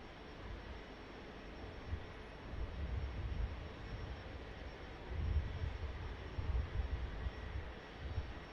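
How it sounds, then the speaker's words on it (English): Jet engines of a VistaJet aircraft at Manchester Airport give a steady, moderately distant broadband roar with low rumbling swells, heard alone without voices. "I can just hear the engines being triggered on the VistaJet"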